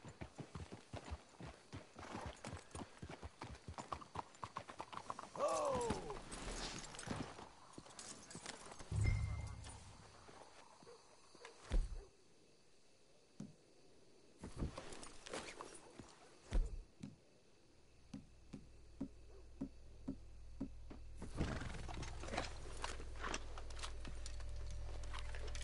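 Horses in Red Dead Redemption 2 clip-clop at a steady trot with rhythmic hoofbeats, and a loud whinny cuts in, then the hooves slow and thin out into quieter stretches as voices speak briefly.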